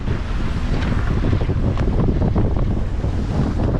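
Strong wind of about 20 knots roars across the microphone on a sailing boat during a gentle gybe, a loud continuous buffeting rush with water and hull noise underneath and no voices.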